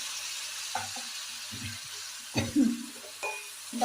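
Onions and chili powder sautéing in a pan for a homemade fish curry, a soft continuous sizzle with a few scraping stirs and light clinks, close but fairly quiet.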